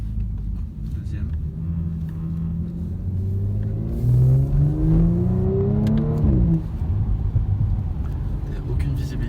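Audi RS5 with a 450 hp engine climbing uphill into thick cloud, its engine note rising in pitch through the gears with a brief lift near the end, steady rumble continuing close by under the cabin.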